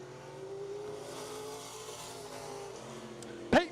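Sprint car racing on a track at a qualifying night, a steady engine drone circling at a distance, with a sharp loud bang near the end.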